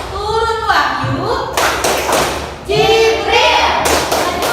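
A classroom of children performing the 'tepuk malaikat' clapping chant, loud rhythmic hand claps and thumps in two bursts, mixed with a teacher's and children's chanting voices.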